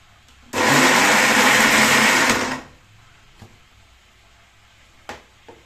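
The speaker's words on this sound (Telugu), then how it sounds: "మిక్సీ పట్టేసుకోవాలండి" A mixer grinder blending chutney whirs loudly for about two seconds, then stops; a few faint clicks and knocks follow in the quiet afterward.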